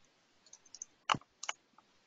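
A computer keyboard typing a quick quit command in a Python debugger, a few light, sparse key clicks with one sharper press, close and quiet against near silence.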